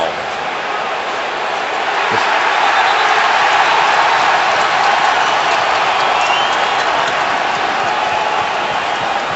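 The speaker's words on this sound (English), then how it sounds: "That's why the crowd is responding." A football stadium crowd at a 2012 49ers vs Patriots game swells into a loud, steady roar as a challenge flag comes out, with a commentator speaking over it.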